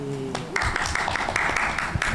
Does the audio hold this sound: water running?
no